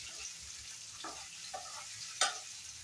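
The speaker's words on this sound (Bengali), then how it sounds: "সাথে সাথে আলুটাও একটু ভেজে তুলে রাখবো।" Potatoes frying in a pan for egg curry give a steady, quiet sizzle, with a few soft utensil scrapes and one sharper clink near the end.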